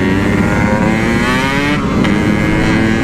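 A Yamaha RX King motorcycle speeds along a straight road, its engine roaring loud and steady with rising revs, heard close from the rider's position.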